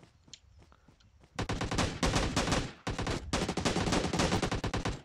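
Gunfire in the video game PUBG Mobile: after a few scattered shots, sustained rapid automatic bursts rattle loudly and close, broken by one brief pause, with no talk.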